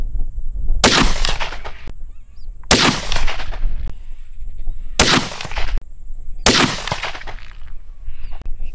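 Four loud, sharp .300 PRC rifle shots fire at roughly two-second intervals during a group test, each a close, booming crack that trails off into a short echo, with quiet gaps in between.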